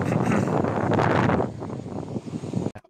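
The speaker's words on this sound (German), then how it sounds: "Und viel Wind." Strong wind buffets an outdoor microphone near the Brandenburg Gate in Berlin, with loud low rumbling for the first second and a half, then easing into lighter gusts before a brief sharp crackle at the end.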